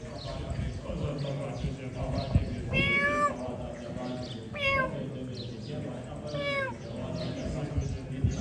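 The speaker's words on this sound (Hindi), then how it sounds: "एक ये म्याऊं म्याऊं कर रही है" Three drawn-out cat meows, spaced a couple of seconds apart, rise over a steady background of murmuring voices and room noise.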